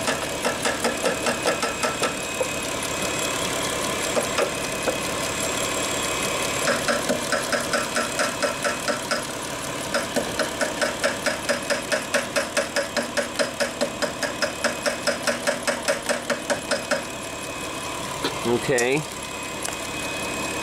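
An idling Mitsubishi engine runs steadily while something taps on its alternator, giving a regular train of sharp clicks over the hum, with a brief pause and a short spoken word near the end.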